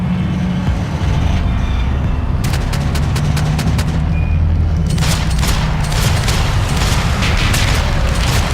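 Gunfire in the video game Max Payne 3 crackles as sharp bursts of shots, first a few spaced cracks and then a denser volley, over a steady rumbling engine-like background.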